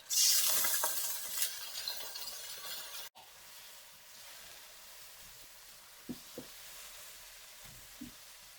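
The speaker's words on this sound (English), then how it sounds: "Now Mom has poured 1 tablespoon of hot water. Now I'm going to drizzle it in." Loud sizzling bursts up as a tablespoon of hot water hits a frying pan of stir-fried white fish, zucchini and capsicum, then drops to a quieter steady fry with a few faint clinks.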